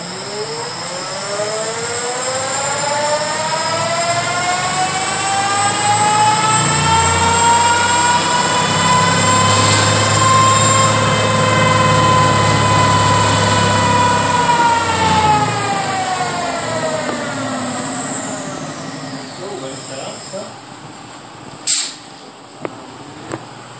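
NYX 2015 electric motorcycle on a dyno accelerating from standstill, a loud rising electric motor whine with layered harmonics climbing steadily for about fifteen seconds, then falling away, ending with a few sharp clicks.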